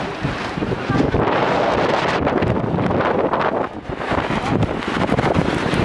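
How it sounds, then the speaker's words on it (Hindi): Strong mountain wind at Rohtang Pass buffets the microphone in a loud, continuous roar that surges and dips throughout. "कितनी हवा चल रही है?"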